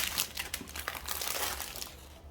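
Cellophane wrapping crinkles and crumples continuously as it is pulled off a Nishane Hacivat Eau de Parfum box, a close, busy rustle lasting a couple of seconds with no talking.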